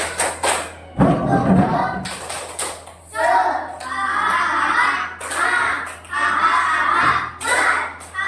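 A classroom of children performs the tepuk semangat clapping chant, with rhythmic bursts of clapping, thumps and shouted chanting that come in repeated loud phrases.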